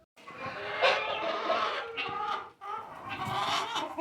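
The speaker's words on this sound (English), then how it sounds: "There's the guineas." Guinea fowl on a farm calling at dawn as the flock is let out, a busy chorus of harsh repeated cackling calls, near and loud, continuing with only a brief pause.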